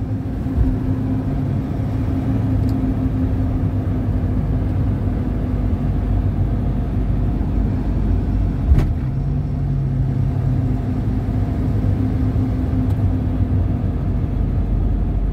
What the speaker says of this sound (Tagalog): Traffic din pala dito.